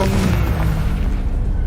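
The Confringo explosive spell bursts in Hogwarts Legacy, a single loud booming blast with a deep rumble that fades quickly.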